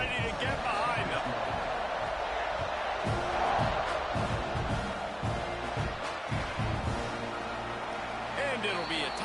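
A big football stadium crowd roars steadily through the kickoff of a tied game, a dense wall of cheering with a brief swell near the middle and a voice talking over it.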